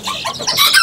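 Serama chickens cluck and peep in short, high, overlapping bursts, close and fairly loud, with no talking.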